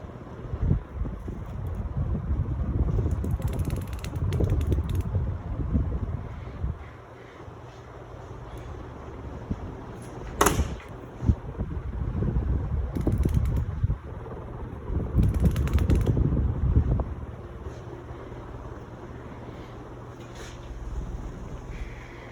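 Monte Carlo ceiling fan with Ahola breeze blades running on high speed, a steady broadband whoosh of moving air with swelling gusts and occasional mechanical clicks, close and continuous.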